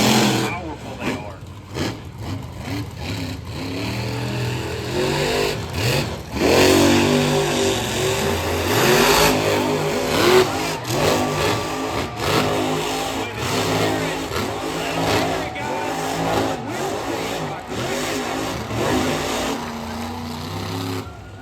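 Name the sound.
monster truck engines revving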